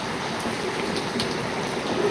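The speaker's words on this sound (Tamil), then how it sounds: "சென்னை கிண்டியில் மழை பெஞ்சிட்ருக்கு" Rain falls steadily in Guindy, Chennai, producing a continuous even hiss of drops with no voices.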